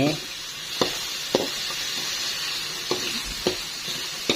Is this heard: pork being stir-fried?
yes